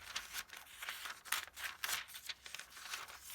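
Cheap, low-quality scissors cut through paper in a rapid series of crisp snips and rustles. The sound is close and moderately loud, and nobody speaks.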